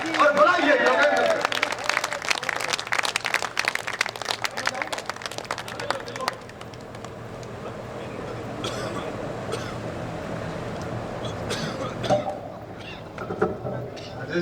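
Audience applause at a Hindi poetry gathering (kavi sammelan), a dense crowd clapping for several seconds and then fading to a murmur of voices and scattered claps, with someone speaking through it.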